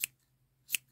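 Scissors trim the yarn of a crocheted gnome with two crisp, close snips about three-quarters of a second apart in a quiet room.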